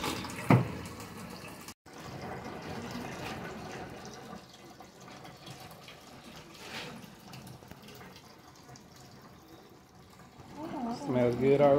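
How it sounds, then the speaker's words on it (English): Water running from a hose into a washing machine during laundry in the Philippines, a soft, steady rush of flow with a thump near the start and people talking at the end. "plugging up the water hose to the washing machine"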